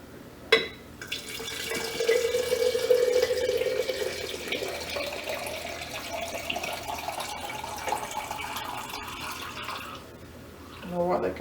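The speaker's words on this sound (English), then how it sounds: "pour in kombucha until the jar is full" Kombucha poured from a jar's spout, a steady close liquid stream running for several seconds and slowly rising in pitch as the jar fills, then easing off, with a brief voice near the end.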